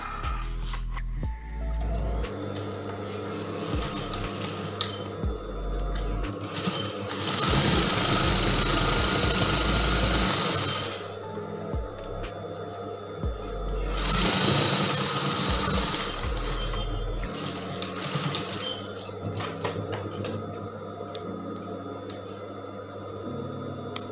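An electric sewing machine stitches the middle section of a gathered half-circle skirt sewn straight on fabric, a steady close mechanical whirring in several long runs with brief pauses between them.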